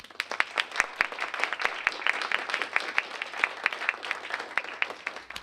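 Audience at a poetry event applauding, dense steady clapping from many hands with sharp individual claps standing out, moderately loud and continuous without talk.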